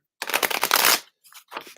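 A deck of cards is shuffled in a quick riffle that runs for about a second, followed by a couple of softer card-handling rustles.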